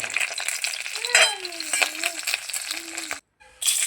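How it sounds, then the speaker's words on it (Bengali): Bata fish frying in hot oil in a pan gives a steady, dense sizzle with scattered crackles and a faint tonal murmur over it, cutting out briefly near the end before the sizzle returns. "তো মাছগুলোকে দেখো লাল লাল করে ভেজে নিচ্ছি।"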